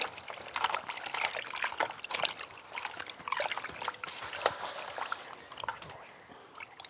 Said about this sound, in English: now we just put it in the water to rinse any excess paint off of it